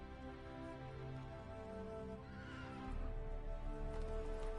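Roach the horse from Witcher 3 whinnies and clops along steadily, hooves and game music or ambience layered throughout, growing louder and fuller in the second half.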